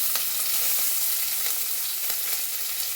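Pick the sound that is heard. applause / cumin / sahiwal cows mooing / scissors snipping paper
cumin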